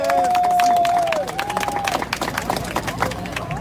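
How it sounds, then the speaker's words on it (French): A crowd at a strike rally outside Gare du Nord in Paris claps and cheers, scattered applause rising over a whistle and the murmur of voices. "On peut applaudir déjà les copains de l'Infrapol dans un premier temps"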